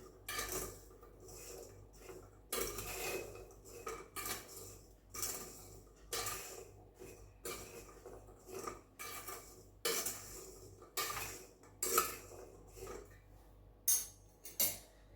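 Peanuts being mixed with salt in a dish for salted roasted peanuts, with repeated soft scraping and clinking of a utensil against the dish in steady strokes, close up and fairly quiet, no talking.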